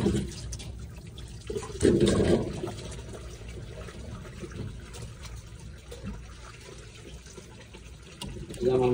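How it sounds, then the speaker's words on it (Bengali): Tap water runs steadily over fish being washed in a kitchen sink, with a brief louder splash near the start and the stream continuing at a moderate level for several seconds. "আমার মাছ ধোয়া প্রায় শেষ।"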